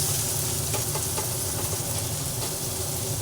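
Tomato and green chilli fry in a pan with a steady, soft sizzle and hiss, broken by a few faint clicks of stirring.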